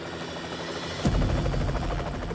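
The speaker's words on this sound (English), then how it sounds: "Just curious, is the helicopter, does he think he's directly over the LiDAR truck?" Helicopter flying overhead above a LiDAR truck on a ranch during a field experiment, a steady rotor drone that swells suddenly louder midway as it passes close, continuous throughout with no talk.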